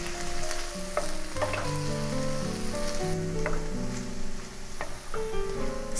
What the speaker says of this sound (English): Stir fried them all together and let the veggies cook for another 3 minutes.